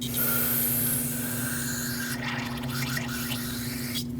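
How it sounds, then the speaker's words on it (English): Brake parts cleaner sprays from an aerosol can into a caliper pin hole on a 2006-2015 Lexus IS250 rear brake, a steady close hiss with a constant tonal hum, broken by short bursts near the end. "So I'm going to fill this hole, well, almost fill it with brake parts cleaner."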